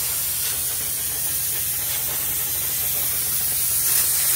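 Steady hissing spray of steam across beaded handspun yarn, constant and fairly soft, close by and alone, swelling slightly toward the end.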